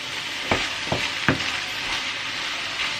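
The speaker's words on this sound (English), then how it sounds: "So we're just going to give that a little bit of a stir." Cottage pie filling sizzles steadily in a pan while a spoon stirs it, giving three or four sharp scraping knocks against the pan over a constant soft frying hiss.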